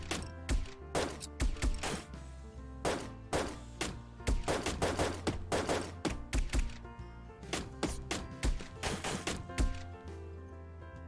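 Rapid bursts of video game gunfire from Find Matt's Cats, dense volleys of sharp shots repeating steadily for the whole stretch, loud and close with no talking.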